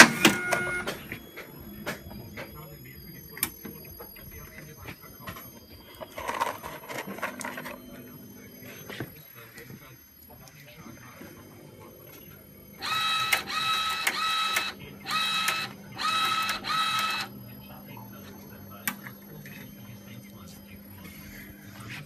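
A LAB400 labeller with a Zebra ZE500 printer prints labels in short mechanical bursts, with a quieter hum and clicks between them and soft talk nearby.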